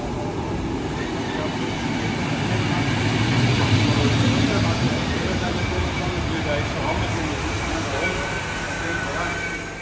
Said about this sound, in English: hopped on the train, and headed back to Lokeren